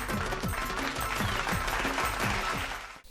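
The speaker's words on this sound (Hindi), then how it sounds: "एक बार जोरदार तालियां मुकुल मान जी के लिए" An audience applauds poet Mukul Maan at a Hindi comedy poetry gathering held as a New Year 2026 special: dense, loud clapping with a steady rhythmic low thump, then a sudden cut-off at the end.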